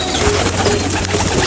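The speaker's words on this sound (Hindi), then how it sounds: "चलें अपने कबूतरों को भी खोलते हैं। आ जाओ पिजन्स," Pigeons kept on a farm alongside chickens coo in a steady, close, fairly loud chorus that runs unbroken over a dense bed of rustling and bird noise, with no talk.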